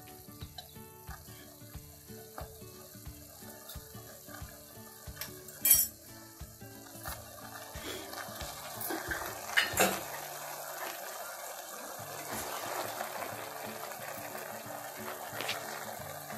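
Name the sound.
stir-frying colostrum and sugar mixture in pan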